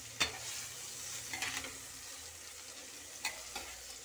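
A spatula stirs bitter gourd sabzi in a pan, giving a few sharp scraping clacks over a soft, steady sizzle nearby, with no talking.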